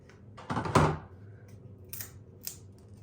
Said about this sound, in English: We'll score it with the scissors